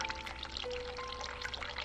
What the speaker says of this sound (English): Alright, let's turn on hot water.